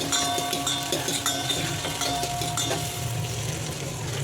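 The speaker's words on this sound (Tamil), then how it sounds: "இப்போ வெங்காயம் நல்லா வதங்கட்டு." Onions and green chillies sautéing in a pan, a steady sizzle with repeated clinks and scrapes of a metal spoon stirring, close and fairly loud, no talk.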